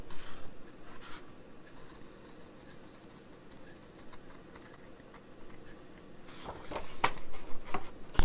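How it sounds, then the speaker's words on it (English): Scissors cut out paper up close in quiet rhythmic snips and rustles that grow louder toward the end, with sharper crisp cuts and paper handling in the last seconds. "let's cut this one out and see what it looks like"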